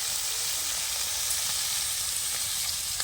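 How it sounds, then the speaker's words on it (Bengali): Fish coated with salt and turmeric fries in a blackened wok, giving a loud, steady, close hiss that holds constant throughout, with faint crackles and no talking. "দেখুন মাছটা কিন্তু ভাজা বসিয়ে দিয়েছি"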